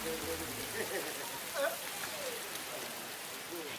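Steady rain falling outdoors, a continuous soft hiss of drops on surfaces, with a person talking faintly over it.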